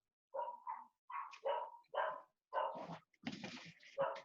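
A dog barks in a series of separate sharp yaps and bow-wows, about eight in quick succession with a whimpering edge, fairly close and clear against silence, no talk.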